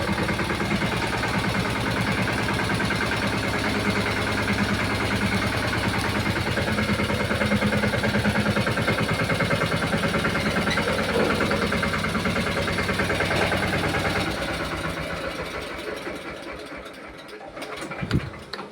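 A mini tractor engine chugs at a close, steady idle inside a farm shed, then winds down and falls quiet near the end.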